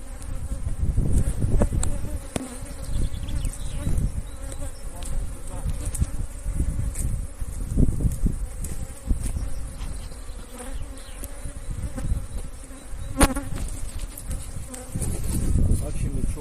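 Honeybees swarm around an opened hive during beekeeping work, a dense continuous buzz close by with individual bees droning past, while people talk faintly in the background.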